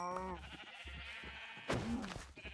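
Sheep bleat on a sheep farm in the Minecraft video game, with a couple of short, nasal calls up close over a low, steady game background and no talk.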